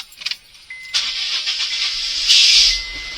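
A car with a failing clutch master cylinder cranks and its engine fires up after a few light clicks, settling into a steady, fairly close run with a brief louder surge near the end.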